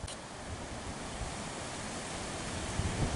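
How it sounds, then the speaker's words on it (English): Wind buffeting trees at a hunt camp, heard as a dense, steady roar with gusty rumble that rises slightly toward the end, loud and continuous, with no talk. "The wind is starting to buffet things pretty hard."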